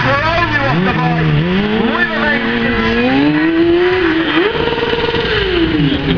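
A motorcycle engine bounces off the rev limiter during a stunt-riding display, giving a loud, sustained buzzing drone with wavering pitch, while an announcer talks over it throughout.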